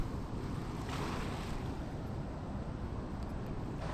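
Canal water at Harike Pattan rushes steadily and continuously, a broad unbroken roar with some wind buffeting against the microphone.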